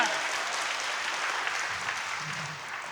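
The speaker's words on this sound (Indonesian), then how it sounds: "Tepuk tangan buat Tuhan kita" Applause from a congregation during a church service, a dense, even wash of clapping held steady for a few seconds at moderate level.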